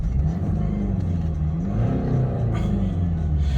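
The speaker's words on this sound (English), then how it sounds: "I'll give it a very quick rev." Diesel engine of a 2010 BMW X1 2.0d xDrive SE revved once quickly, a low rumble rising to a short swell then settling back to idle, close and steady throughout.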